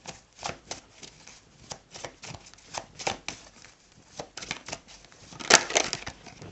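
Tarot cards shuffled by hand in steady, close riffling bursts with short pauses, a continuous papery flutter heard alone without talk.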